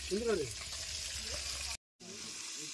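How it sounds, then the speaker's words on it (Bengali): Tiger prawns fry in a pan with a steady, dense sizzle close by, a brief voice sounding at the start and the sound dropping out for a moment near the end. "এই দেখো, বাগদা চিংড়িটাকে ভাজছি এখন।"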